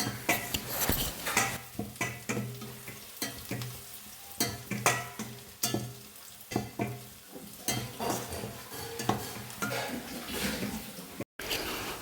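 Onions fry to golden brown in a pan, giving a steady close sizzle broken by repeated stirring scrapes and clinks of a utensil against the pan.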